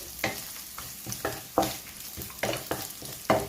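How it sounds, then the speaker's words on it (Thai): Dried shrimp frying in a pan with garlic, a steady sizzle broken by rhythmic scraping strokes of a spatula stirring every half second or so, close and clear with no talking. "เราทอดให้กุ้งแห้งกรอบๆหอมๆค่ะ"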